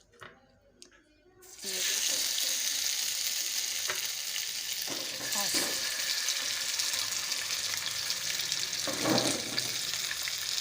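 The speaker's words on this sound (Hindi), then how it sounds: "थोड़ा सा ऑयल डालेंगे और इसको थोड़ा सा हम फ्राई करेंगे" Chicken tikka pieces drop into a pan with a little oil and burst into a loud, steady sizzle after a quiet start, with occasional scrapes and stirring clatter as the crackle carries on close by.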